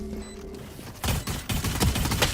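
A quick volley of sharp gunshots in the video game Valorant, starting after a short quiet lead-in and then firing several close, punchy shots in fast succession.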